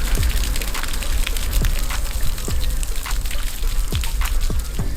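Water gushes and splashes steadily from a pump made from a fridge compressor, a loud continuous pour with irregular dripping and plopping accents, no voices.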